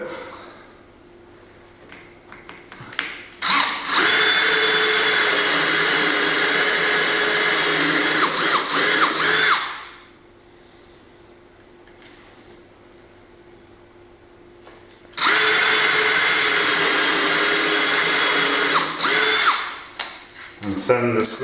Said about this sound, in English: Drill them out a little bit.